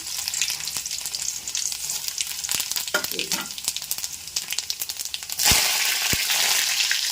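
Garlic, cumin and curry leaves crackle in hot oil, steady popping sizzle with stirring clatter, then a louder rush of frying in the final seconds.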